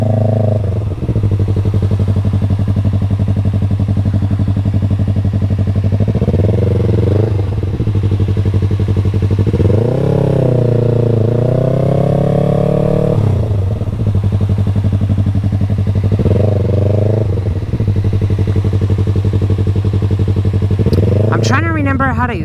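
A motorcycle ridden at night rumbles steadily nearby, with its engine note rising and falling in several rev swells while it circles in figure eights.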